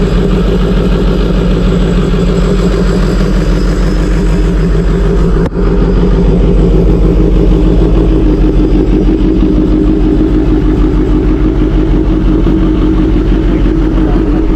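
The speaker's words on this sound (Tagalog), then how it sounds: "So painitan tayo ng bike" A motorcycle engine warms up at idle, close and steady with a low rumbling throb and a slight revving swell, running alone for the whole stretch with a brief dip midway.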